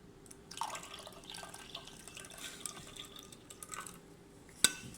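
Water poured slowly a little at a time, soft, faint trickling and dripping in small intermittent bursts, ending with a sharp clink.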